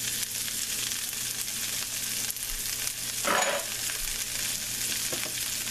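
Kale, carrot, chili, cucumber and sardines stir-fry in a pan with a continuous sizzle, and a louder hiss and scrape swells midway as the food is mixed.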